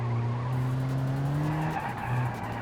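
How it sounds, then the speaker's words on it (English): Race car tires lock up and skid in BeamNG after landing from a jump, a loud sustained screech over steady engine drone for several seconds, no talking. "Somehow actually lock up the tires there after catching that air."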